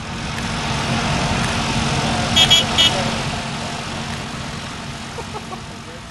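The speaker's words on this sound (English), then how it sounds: "I will leave you to reflect on the positive benefits of having a horn in your" A horn fitted in a light aircraft gives two short, bright toots close together over a steady, loud engine and airframe drone.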